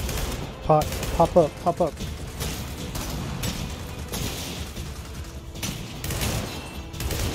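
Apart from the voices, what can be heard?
gunfire in the video game Gears of War 4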